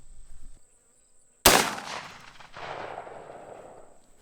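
A single sharp rifle shot of .223 ammunition fired at a jug, a loud crack at close range followed by a rolling echo that fades over a few seconds, with no talking.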